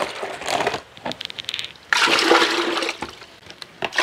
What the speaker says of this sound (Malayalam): നമുക്കിതിന് ഇതിനകത്തോട്ട് വെള്ളം ഒഴിച്ചു കൊടുക്കാം